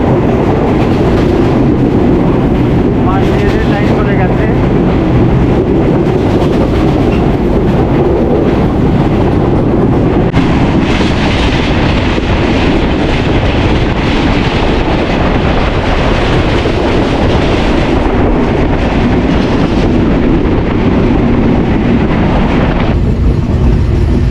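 A passenger train slowing on its approach to Joypurhat station in Bangladesh rumbles loudly and steadily, with wheel clatter and wind buffeting the microphone all the way through, close and continuous with no voices.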